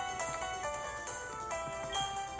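An electronic phone ringtone chimes in a repeating melodic pattern, steady and clear, with no voices, in Pokémon HeartGold on Nintendo DS.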